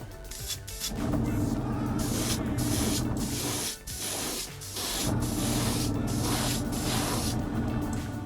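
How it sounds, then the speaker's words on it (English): Sustained hissing spray from an aerosol can close by, spray painting a fishing lure, running in long bursts with a couple of brief pauses between them. "Just gonna spray the front."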